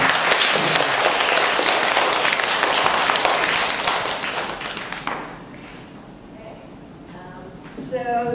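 Applause at a town hall meeting after a round of two-minute pitches: dense clapping for about five seconds that then fades, followed by quieter room sound with a voice starting up near the end.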